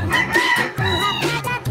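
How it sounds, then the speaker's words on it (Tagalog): Several close clucking calls from chickens, with a rooster crow rising among them in short, loud bursts. "Manok. Tutulaok."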